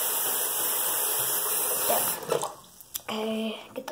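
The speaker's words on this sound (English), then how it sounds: "I've got the sink and I'm gonna turn it on cold." Cold water runs steadily from a sink tap for a couple of seconds, then shuts off, followed by brief splashing and a short, voice-like tone.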